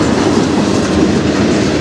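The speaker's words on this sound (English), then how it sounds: "this is the first train to go to the States today" A CN freight train rolls past in Sarnia, Ontario, a loud, steady rumble of wheels and rail cars close by, with no voices.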